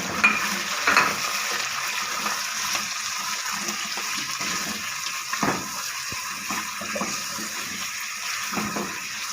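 Chicken pieces sizzle and fry among golden-browned onions in a karahi, a steady broadband hiss with occasional stirring scrapes and small pops, close and continuous with no talking.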